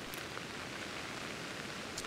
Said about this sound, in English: It's still raining, but that's fine.